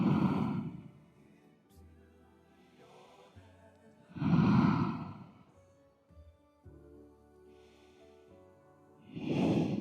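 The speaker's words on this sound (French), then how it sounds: "Une respiration toujours aussi longue." Long, slow breaths during a yoga forward bend, with three deep, drawn-out exhalations spaced several seconds apart and quiet, softer inhalations between them, close and clear with no talk.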